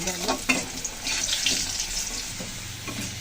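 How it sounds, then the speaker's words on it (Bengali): Whole cumin seeds, dried red chilli and bay leaf crackle in hot oil for a tempering, a steady close hiss with a few light stirring scrapes, and no voices. "দিয়েছি গোটা জিরা, দিয়ে দিলাম ফোড়নে, ভালো করে ভেজে নেব"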